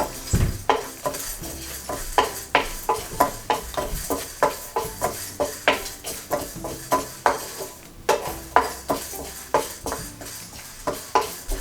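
Whole spices such as star anise dry roasting in a pan, with a steady run of light clinks and scrapes as they are stirred and tossed against the metal, fairly close and alone.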